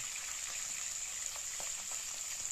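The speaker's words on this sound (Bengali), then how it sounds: "অপর দিকটাও আমি ভালো করে উল্টে দিচ্ছি" Bata fish sizzling in hot oil, a continuous bright crackle with faint pops throughout, close by and steady.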